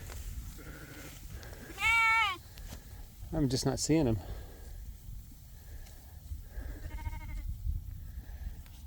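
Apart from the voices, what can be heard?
sheep bleating in a field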